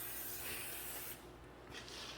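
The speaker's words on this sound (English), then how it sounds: "Okay, some penetrating fluid." Aerosol can of penetrating fluid sprayed onto the front wheel bearing of a 2017 Ram 1500 4x4 in a repair job; a steady close hiss runs about a second, then shorter bursts follow.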